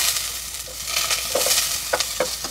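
Ginger and onion sauté in a little oil with a loud, steady close sizzle, broken by a few brief scraping stirs of a utensil in the pan.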